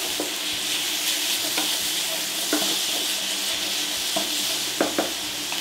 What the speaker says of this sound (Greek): Ανακατεύω πάρα πολύ καλά.